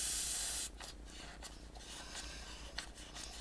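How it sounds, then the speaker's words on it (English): A can of gold spray paint hisses in a loud steady burst at the start of a craft session, then cuts off, leaving a few short, quieter spurts and faint rustles. "It's because I'm spraying down."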